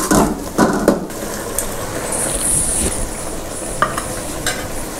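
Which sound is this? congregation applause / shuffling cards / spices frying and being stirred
spices frying and being stirred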